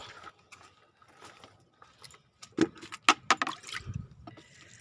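Water splashes and pours onto garden plants in a few short, uneven bursts close by, with quiet stretches and faint background noise between them.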